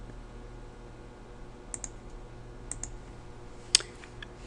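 Computer mouse clicking while drawing a curve in Richpeace pattern-making software: a few small, faint clicks spaced apart, the last one sharper, over a quiet electrical hum.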